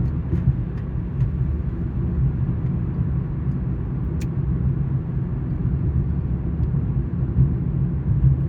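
A car drives steadily through a small old town, its engine and road noise forming a continuous low rumble throughout with no talking.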